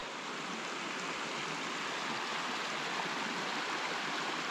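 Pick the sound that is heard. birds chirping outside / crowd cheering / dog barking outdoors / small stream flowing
small stream flowing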